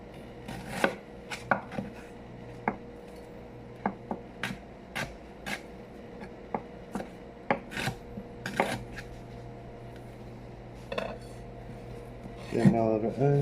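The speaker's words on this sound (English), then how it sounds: "And now onions cut." Onions being chopped with a knife on a cutting board: crisp, close strikes in an uneven rhythm, with a faster flurry of cuts near the end.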